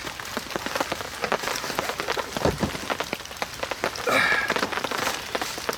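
Heavy rain drumming on a camping tarp in the UK, a dense, close patter of drops with louder irregular splats, continuous and steady.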